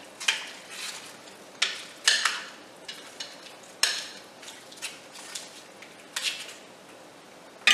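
Stew peas being stirred in a crock-pot, with repeated scraping and knocking of a spoon against the pot in irregular strokes, some sharper clacks, at moderate volume with no talk.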